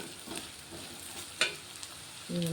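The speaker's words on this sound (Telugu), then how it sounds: "ఆలుగడ్డలు కొంచెం ఫ్రై అవుతున్నాయి." Potatoes frying in a pan give a low, steady sizzle, with a few soft clinks of stirring and a brief, tonal scrape near the end.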